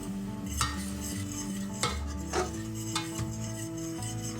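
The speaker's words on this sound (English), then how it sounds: "I'm just going to add a little bit in, stir it in, add a little bit more in, stir it in a little bit more." Whole milk being stirred into a cheesy broccoli, ham and rice casserole sauce in a pot, with a spoon scraping and clinking at a steady pace over a soft continuous simmer, close and moderately loud.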